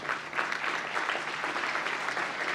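Audience applause at a university graduation ceremony fills the hall, a dense, even patter of many hands clapping throughout the short stretch.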